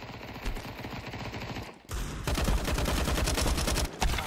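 Rapid automatic gunfire in the shooter game Counter-Strike 2, close and loud, with a short burst, a brief pause, then a long sustained stream of shots.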